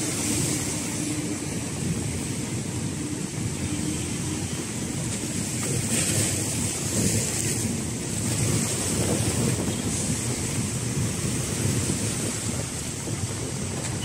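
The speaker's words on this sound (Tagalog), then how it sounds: "Kahit medyo malakas ng hampas ng alon." Sea waves surge and wash continuously along the foamy Manila Bay shore, a loud, steady roar mixed with wind buffeting the microphone.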